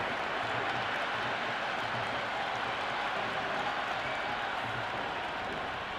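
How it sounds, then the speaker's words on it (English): A huge crowd at a Pakistan Super League cricket match between Quetta Gladiators and Peshawar Zalmi keeps up a steady roaring buzz from the stands, dense and unbroken, with scattered clapping woven through the noise. "It's the most enthusiastic crowd you could ever see right now. There's a buzz, a real buzz coming from the stands."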